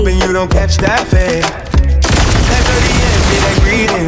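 A gun being tried out fires in a dense, loud burst that starts around midway and continues steadily to the end, after a short stretch of sharp single bangs mixed with music-like tones.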